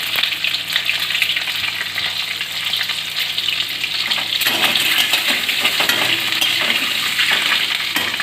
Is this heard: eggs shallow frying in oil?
yes